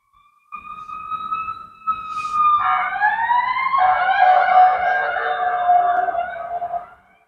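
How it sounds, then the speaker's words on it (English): A police siren wails outside, rising and sweeping in a steady, fairly loud tone for several seconds before cutting off, with no talking over it. "Is that even a police car?"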